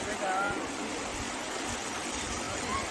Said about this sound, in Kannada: ಮಳೆ ಜಾಸ್ತಿಯಾಗಿ ತುಂಬ ನೀರು ಬಂದಿದೆ.